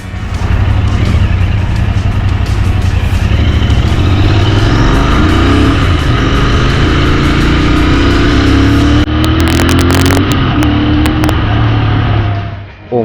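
A Royal Enfield Interceptor 650 motorcycle rides through Kolkata city traffic, its engine droning loud and close under rushing wind, with the pitch rising and falling as it accelerates and a brief clattery patch near the end.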